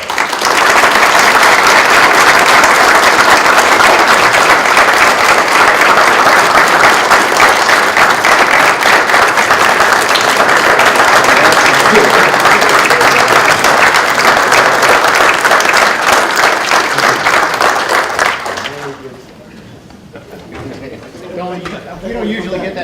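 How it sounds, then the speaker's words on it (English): A room full of people at a transportation meeting applauds the legislators with loud, sustained clapping that runs for about eighteen seconds, then cuts off abruptly into quiet, with faint voices afterward. "join me in a round of applause to our legislators for such a great effort"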